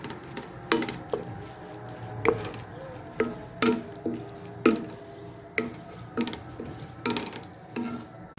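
A spoon stirs chicken curry in a pan over the heat for a Kerala kappa and chicken curry, making repeated close scraping and clinking strokes over a soft sizzle, with no voices.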